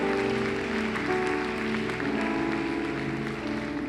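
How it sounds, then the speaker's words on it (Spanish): A church congregation applauds during an evening worship service, a steady wash of clapping held for several seconds over sustained tones, with no pause or break. "¿Podemos darle un aplauso al Señor en esta noche?"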